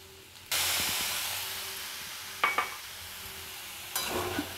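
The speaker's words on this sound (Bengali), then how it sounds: "এই জলটুকু আমি পোস্তের মধ্যে দিয়ে দেবো।" Water poured into a pan of frying potatoes for aloo posto, bursting into a loud sudden sizzle and steamy hiss that stays strong and slowly fades, with a couple of utensil knocks and a second flare of sizzling.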